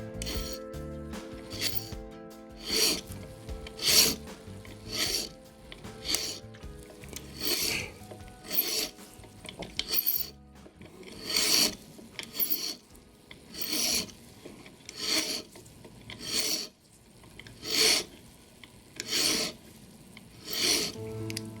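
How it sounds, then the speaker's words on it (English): A coarse hand file rasps over the end of a tapered brass clock pin held in a pin vise, in a steady series of close, loud back-and-forth strokes separated by short pauses, with no talking. "our coarser file, running it carefully over the end of the tapered pin."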